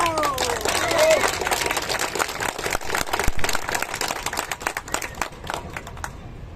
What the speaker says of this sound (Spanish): Quiero pedir un fuerte aplauso para eso.